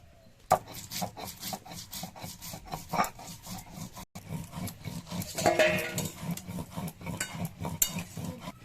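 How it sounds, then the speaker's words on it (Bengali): Mustard seeds and chillies are ground into paste by hand, making a rhythmic, close scraping rub, stroke after stroke, steady and fairly loud with no talking. "কচুর ডগায় দেওয়ার জন্য সর্ষে আর লঙ্কা একসঙ্গে বেটে নেব।"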